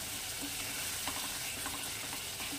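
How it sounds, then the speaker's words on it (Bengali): Spice paste fries in a wok with a little water, giving a steady close sizzle with soft stirring scrapes and occasional small bubbling pops throughout. "একটু জল দিয়ে মশলাটা কষাবো"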